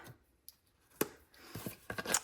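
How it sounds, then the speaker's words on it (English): Small paper snips make a few sharp, crisp cuts through paper card, quiet isolated clicks first, then a quicker cluster of snipping and rustling near the end, close by and without speech. "Use your paper snips here, not your big scissors."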